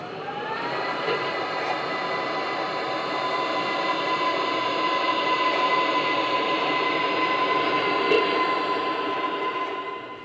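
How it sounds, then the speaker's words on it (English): A Märklin model locomotive hauls new Prussian compartment cars around a layout, with a steady, close rolling rumble and a faint high whine that hold at one level throughout. "The engine is hauling the new Prussian compartment cars."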